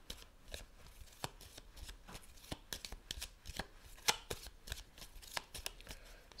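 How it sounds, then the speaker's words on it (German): Tarot cards are shuffled by hand, a quiet, close series of quick papery riffles and taps repeating in an irregular rhythm, with no talking. "Und ich mische auch schon die Karten."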